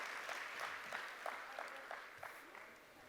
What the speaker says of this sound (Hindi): Give a big hand and we welcome you on this